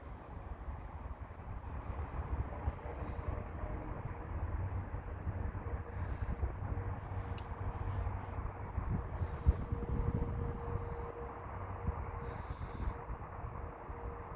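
A CN freight train with a cut of grain cars rumbles past at a distance, a steady low roar of rolling cars with faint rattles and a brief clank partway through.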